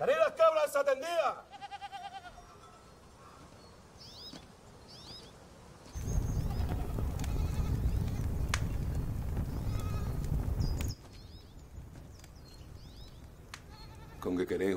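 Goats bleat in a rural mountain setting, a cluster of close bleats at the start and more scattered ones later, with a stretch of noisy rumble in between.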